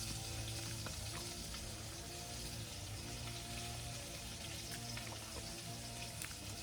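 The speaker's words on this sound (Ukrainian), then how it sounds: "Так, дожарюю вже рибку" Fish frying over an outdoor campfire gives a steady, close crackling sizzle with scattered pops, continuous and even throughout with no voices.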